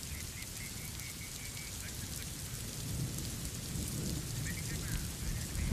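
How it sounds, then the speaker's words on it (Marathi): Heavy monsoon rain pours down in Mumbai, a dense, continuous roar of rain beating on surfaces with a deep low rumble underneath that swells slightly toward the end, close and loud, with no voices. "मुंबईमध्ये मुसळधार पाऊस हा बरसतोय."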